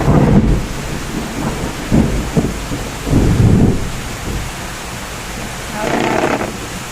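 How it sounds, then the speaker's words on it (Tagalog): Low rumbles of thunder roll in several waves over a steady hiss of heavy rain, loud and close, with no voices. "pag ganitong panahon na tag-ulan, may kulog at kidlat"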